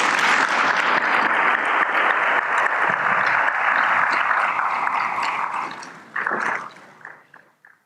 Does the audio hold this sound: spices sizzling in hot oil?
no